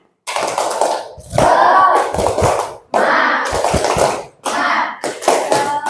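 Students in a vocational-school Islamic religious education class perform a rhythmic group clapping chant, bursts of claps in short patterned phrases separated by brief pauses, loud and close with shouted voices mixed in.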